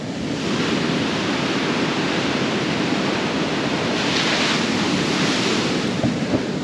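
Choppy ocean surf rolls onto a Florida beach on an overcast, misty day: a loud, continuous wash of breaking waves with steady wind rumble and no voices.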